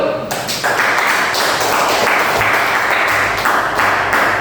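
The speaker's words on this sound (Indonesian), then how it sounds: "Tepuk tangan dulu." Children clapping together during a classroom coding lesson, rhythmic bursts of group claps in a patterned beat, close and loud throughout.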